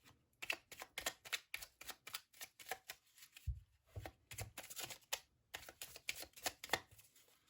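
Tarot cards are shuffled by hand at close range: quick, crisp riffling slaps in steady repeated bursts with a short pause partway through, soft and intimate, and no one speaks.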